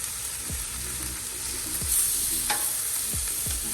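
Steady sizzling of filet steaks frying on a hot Blackstone griddle, a constant crackling hiss with a few soft scraping clicks, close and fairly loud.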